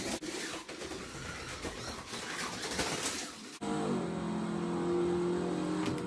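A Ford GT40 slot car running on a model of the 1967 Silverstone Grand Prix track. Rattly, rubbing track noise comes first, then a steady, thin electric motor whine takes over for the last few seconds, all fairly quiet.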